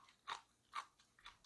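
Three or four crisp crunches from biting and chewing thick slices of cucumber dried about seven hours at 55°C, close and quiet, spaced evenly with no talking.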